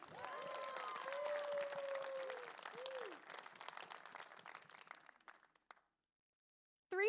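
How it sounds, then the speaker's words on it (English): Faint audience applause at a conference, light scattered clapping with cheering voices at first, thinning out and fading to silence before a short sound at the very end. "One more round of applause for everyone"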